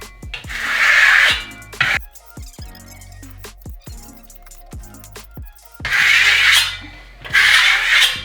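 A trowel burnishes Venetian plaster on a wall with close, loud rasping sweeps in two bursts. Scattered sharp scrapes and taps fill the quieter gap between them.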